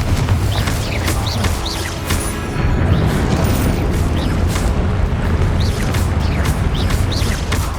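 Spell blasts and explosions in the wizarding game Hogwarts Legacy, a continuous loud barrage of booms, whooshes and bursts with bright magical zaps layered on top.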